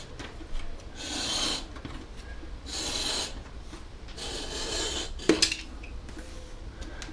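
A blade or file rasps through material for an OO gauge model railway layout in repeated rhythmic strokes, close and moderately loud, with a sharp knock near the end.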